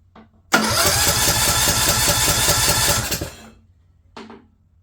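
A Craftsman LT2000 lawn tractor with a troubled engine, choke on, cranks and catches with a loud close rumble for about three seconds, then dies away, followed by a brief second cranking attempt.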